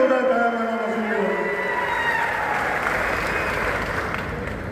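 A large political rally crowd in Phaltan breaks into loud, sustained applause that starts with a strong burst and holds as a dense wash of clapping, with a voice briefly audible at the start.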